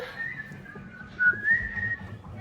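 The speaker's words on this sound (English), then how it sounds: "We're whistling while we work." Someone whistles a soft, wavering tune close by, over faint household background noise.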